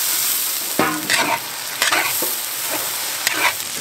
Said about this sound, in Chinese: 再放入龙虾哈。